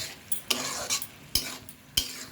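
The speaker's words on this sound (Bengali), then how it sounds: "এরকম করে এরকম করে একটু নাড়া দিয়ে নিতে হবে" Red amaranth leaf ghonto thickened with flour being stirred in a pan, a low hiss punctuated by four or five distinct scraping knocks of the spatula against the metal, close and fairly quiet, with no talking.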